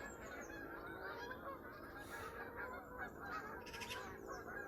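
Several geese honk overhead an allotment, calls overlapping in a scattered chorus, fairly distant over a low background rumble.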